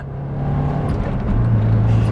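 A 1986 Porsche 944 engine pulls in third gear, a steady loud low drone that rises slightly in pitch as it accelerates, heard from inside the car with no talking.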